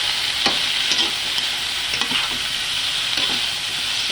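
Chicken feet sizzle in a hot pan while being stirred, the steady frying crackle punctuated by several scraping stir strokes at roughly regular intervals, close and without voices.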